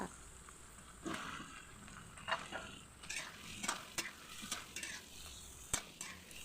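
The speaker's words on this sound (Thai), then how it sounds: "เราจะผัดไปเรื่อยๆนะคะ จนกว่าบวบของเราจะยุบตัวและสุก" Shrimp and luffa stir-fried in a pan, a spatula scraping and clinking against the metal in irregular strokes over a low, steady sizzle, close and fairly quiet, with no talking.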